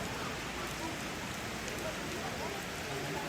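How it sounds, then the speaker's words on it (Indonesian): Rain falling steadily outside a traditional Toraja house in North Toraja during a family memorial gathering. The hiss is even, continuous and moderately faint, with no clear voices. "Saat ini sedang hujan"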